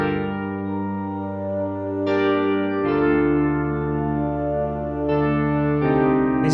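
A soft, warm backing of sustained choir voices and a synth pad with tremolo, layered with piano, holding long chords that shift every couple of seconds at a steady, moderate level for a classical-meets-hip-hop track.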